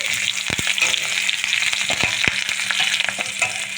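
Panch phoron spices and green chillies sizzle and crackle loudly in hot oil, with a few sharp pops and clicks of stirring throughout.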